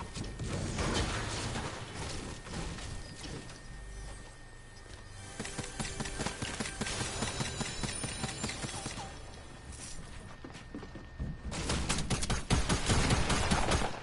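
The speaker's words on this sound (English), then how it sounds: "Why the hell is there gunfire?" Gunfire in an online multiplayer video game rattles as dense, continuous crackling bursts over a busy game soundscape throughout, with no clear talk.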